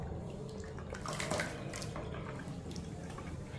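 Water is poured into a mixer jar while making a weight-loss drink, a faint, continuous splashing trickle lasting a few seconds at close range.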